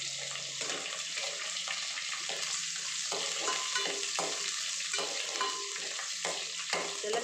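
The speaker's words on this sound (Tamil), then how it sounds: "இஞ்சி, பூண்டு எல்லாம் போட்டு தாளிக்கணும்." Ginger and garlic frying: steady sizzle with occasional stirring clatters, a continuous hiss of hot oil close by, no voices.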